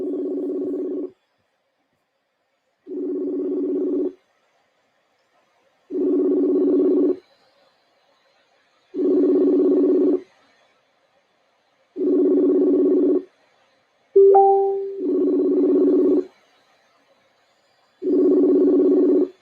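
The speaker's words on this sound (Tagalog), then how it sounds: "Can you hear po ba yung ring?" Telephone ringback tone heard while a call connects: a steady low purring tone repeats in even bursts of about a second, spaced roughly two seconds apart, with one brief higher chirp near the end.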